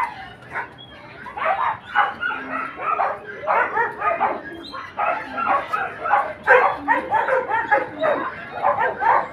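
Many dogs bark and yip in a dense, overlapping chorus at a villa resort in Sharjah, with bursts coming steadily from nearby for the whole stretch.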